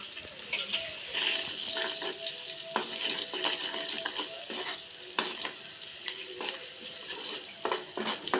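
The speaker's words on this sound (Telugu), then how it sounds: "సో తాలింపులో మనం ఎల్లిపాయలు, 2 ఎండుమిరపకాయలు, కొంచెం కరివేపాకు, పసుపు ఇవి వేసుకొని తాలింపు పెట్టుకోవాలి." Garlic, two dry red chillies, curry leaves and turmeric crackle in hot oil for a tomato pickle tempering, a close, fizzing sizzle with clinks and stirring scrapes throughout.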